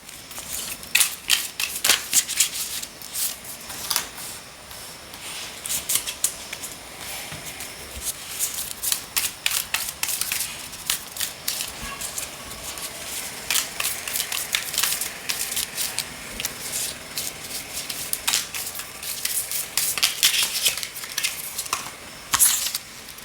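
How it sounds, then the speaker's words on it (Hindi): Tarot cards shuffled by hand at close range, a steady run of soft riffling, sliding and tapping that continues without a break and with almost no talk. "let's shuffle the cards"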